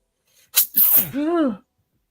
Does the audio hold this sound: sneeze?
yes